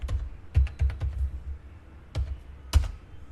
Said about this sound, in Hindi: न्यू यूज़र के लिए करेंटली मैं पासवर्ड डाल दूंगा, हिट एंटर